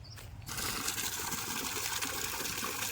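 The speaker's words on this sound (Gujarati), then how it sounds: "વાળવાનું છે ઘઉંમાં પાણી, તો આપણે ફટાફટ ચાલુ કરી આવી મોટર." Water gushes steadily from an irrigation pump motor into a wheat field, a loud continuous rushing that starts abruptly after a brief quieter moment and holds on without break.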